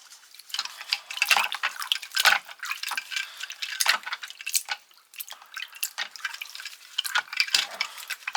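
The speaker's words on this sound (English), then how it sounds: "We're just going to rinse it really well in plain water." Channellock 420 tongue-and-groove pliers being rinsed in plain tap water: irregular drips and splashes with small bursts of running water, close and fairly clear, no talking.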